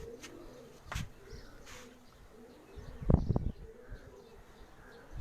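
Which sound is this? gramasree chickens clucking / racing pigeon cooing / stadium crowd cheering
racing pigeon cooing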